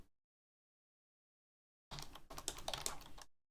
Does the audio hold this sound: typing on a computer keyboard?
yes